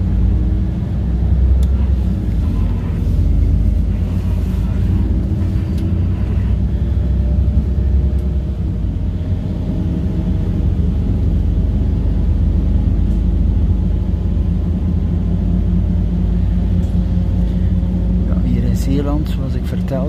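A Connexxion route 10 bus drives away from Vogelwaarde toward Terneuzen, a loud steady engine rumble inside the cabin with road noise throughout and someone speaking over it.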